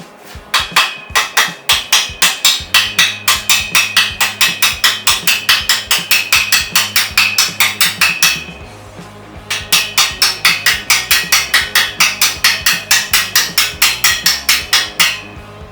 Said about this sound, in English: Get a hammer so you can tap that sucker in there.